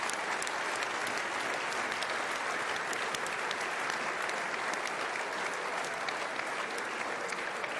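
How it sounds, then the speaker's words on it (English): A large audience at the EFL Awards ceremony applauds in a dense, sustained wash of clapping that holds steady throughout, with faint crowd murmur beneath. "A round of applause for Joe, please."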